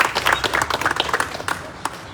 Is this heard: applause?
yes